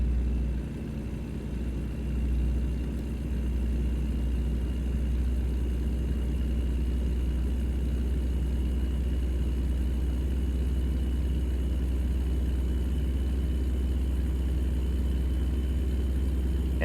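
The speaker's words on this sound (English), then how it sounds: "Engine sounds amazing." A big Caterpillar truck engine in American Truck Simulator drones at a steady low pitch, a deep continuous rumble with no talk over it.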